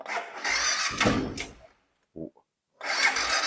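A Dakar motorcycle, still dripping after pressure washing, sputters as it tries to start: two rough bursts of engine noise with a short quiet gap between them, and a voice briefly exclaims.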